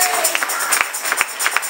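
A church youth congregation claps in scattered, uneven bursts, with sharp individual hand claps standing out over a bright, reverberant crowd wash for a couple of seconds.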